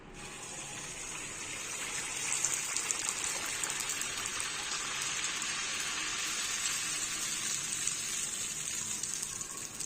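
Jaggery paniyaram batter frying in hot oil, a steady bright hiss and fizzing sizzle that holds evenly for several seconds without talk.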